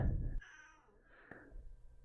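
Edward, a pet cat, gives one drawn-out meow up close in a quiet room, wavering before it trails off.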